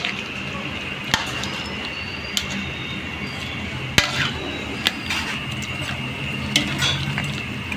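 Pork caldereta is stirred in a pot, a spoon scraping and knocking against the metal sides in a few sharp clinks over a low bubbling simmer, close up and with no talking.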